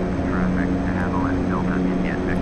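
DHC-6-300 Twin Otter in Flight Simulator X on final approach, a steady droning propeller hum with a constant engine tone that fills the whole moment; a voice murmurs faintly underneath.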